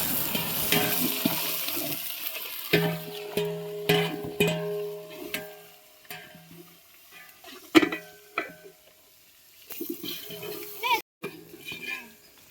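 Mint leaves stirred in a pot of mutton biryani masala over a wood-fired stove, with scraping and clattering strokes and soft frying sizzle, broken by short pauses across the stretch.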